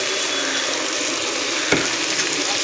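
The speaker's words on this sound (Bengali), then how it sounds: "আদা রসুন পেস্টটা পেঁয়াজের সঙ্গে একটু ভালো করে নাড়িয়ে" Ginger garlic paste frying with onions in hot oil, a steady loud close sizzle with a soft clink of stirring partway through.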